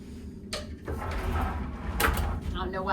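Cruise ship cabin closet door being pulled open like a drawer: a close scraping slide with a light bump partway through, over a low steady room hum and faint background voices.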